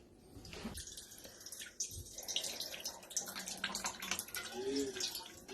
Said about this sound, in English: So we're going to let it drain for a little bit.